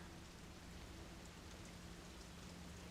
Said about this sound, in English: Sound of raindrops on the window echoes faintly.